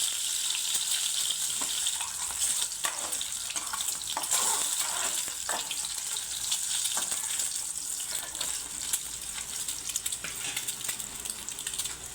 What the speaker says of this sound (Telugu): ఇప్పుడు ఇందులో గుడ్లు కూడా వేయించుకుందాం